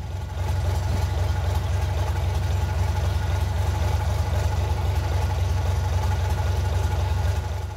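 A rough Gardner 6LXB diesel engine in poor health idles steadily nearby, with a heavy low rumble and faint knocking that stays constant throughout.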